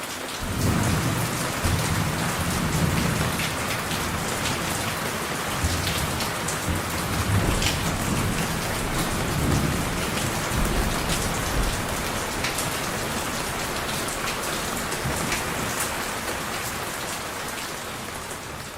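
Steady rain falls outdoors with a dense, even hiss of drops on surfaces and a low rumble of thunder underneath, continuous and fairly loud throughout with no voices.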